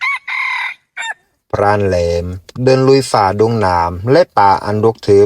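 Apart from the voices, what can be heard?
red junglefowl crowing in the distance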